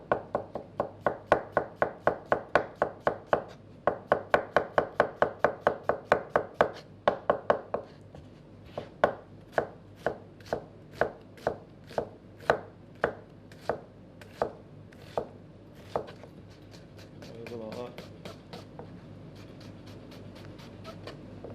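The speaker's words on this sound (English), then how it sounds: "you can always run your knife through it again" A knife chops food on a cutting board, close and crisp. Rapid regular chops run in bursts, then slow to steady, spaced strikes, and a faint scraping comes near the end.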